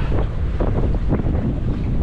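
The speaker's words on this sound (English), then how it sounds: "It's pretty windy" Loud, gusty wind buffets the microphone in a constant roar, with a faint wash of water underneath, out on an open fishing boat at sea.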